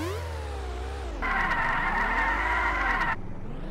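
Cars in the Razortron 2000 video game race past with whining engines sweeping up and down, and a sustained loud tire skid screeches for about two seconds in the middle.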